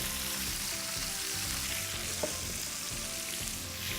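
Fennel fries in extra virgin olive oil in a pan alongside crisping fish skin, with a steady, close sizzle that stays even throughout and has no voices over it.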